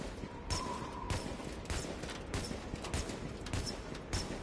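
Rapid gunfire in the video game Tom Clancy's The Division: steady, dense shots over a constant noisy background, medium loudness with no voices present.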